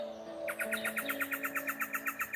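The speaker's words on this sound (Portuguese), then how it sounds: "cantar como esse passarinho cantou agora" Small bird singing a rapid, evenly spaced run of high bright chirps, about a dozen in steady rhythm, close and clear over a faint tonal hum.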